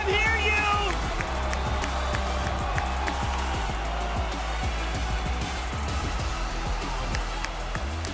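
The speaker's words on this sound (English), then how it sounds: "Crowd, make some more noise!" A large arena crowd at the Fortnite FNCS finals cheers and applauds in a dense, continuous roar with scattered claps, while an announcer talks over it.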